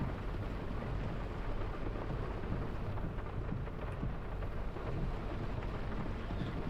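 Steady rain pours across a farm field in the Farming Simulator game, a dense, even hiss with low rumbling that holds at constant loudness throughout, with no talking.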